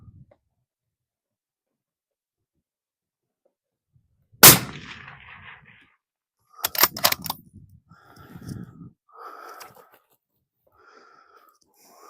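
A rifle fires at a 500 yard target: one sharp, loud shot rings out alone, followed by a few more bursts of sharp cracks and rattling mid-range noise further on.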